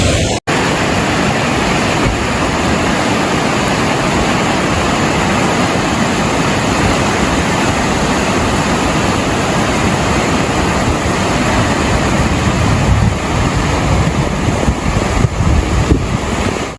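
Floodwater surging across Interstate 24 near Chattanooga after torrential rain, a loud, steady rushing roar with heavy wind buffeting throughout.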